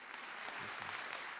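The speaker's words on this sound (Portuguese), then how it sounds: "Antes de Starr deixar a Comissão de Justiça, a clique republicana não dispensou os aplausos de pé" Standing applause from members and spectators at a US House Judiciary Committee hearing, a dense, steady wash of clapping that continues throughout, fairly distant and even in level.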